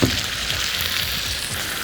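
Tomatoes and sausage sizzle steadily in a hot pan for a paella with sausage and seafood, a close, even, crackling fry with no pauses.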